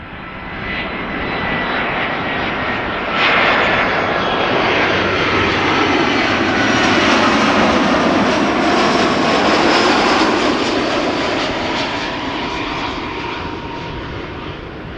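A passing airliner near Schiphol Airport, turning around Noordwijk towards Leiden, gives a loud, continuous jet engine roar that swells to a peak midway and slowly fades as it moves off.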